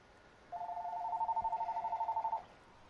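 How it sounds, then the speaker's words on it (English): A phone rings once with a steady, warbling electronic tone that lasts about two seconds, fairly loud and close, with no talking over it. "I'm gonna answer this phone call real quick."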